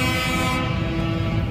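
Tractor horns honking at a farmers' street protest on Friedrichstraße in Berlin, a loud, sustained toot with steady harmonic tones over a rumbling crowd and engine background.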